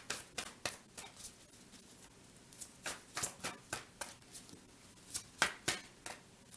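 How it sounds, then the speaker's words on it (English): Tarot cards being shuffled by hand, giving a run of soft, crisp riffling bursts at an uneven rhythm, close and fairly quiet, with no talk. "We'll just slow down my shuffling and see if that changes things."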